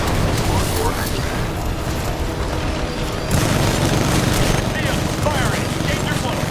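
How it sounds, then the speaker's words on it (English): Titanfall 2 smart core weapon fires in loud, dense barrages of rapid shots and booms, continuing steadily with a brief lull midway, under in-game voice callouts. "Smart core activated."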